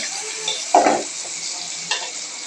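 Spices and bay leaves stirred in a hot pan for a chicken and potato curry, a soft sizzle under a few distinct scraping strokes of a spatula, one strong and one lighter.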